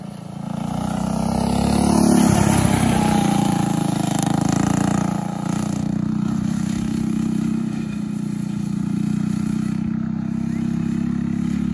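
A racecar engine runs steadily and loud at close range, its tone swelling slightly early on and then holding a rough, even drone throughout.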